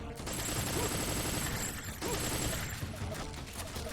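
Bursts of rapid gunfire from the video game Metal Gear Solid 3: Snake Eater HD sound in quick succession, fairly quiet and dense, with a faint voice in the background.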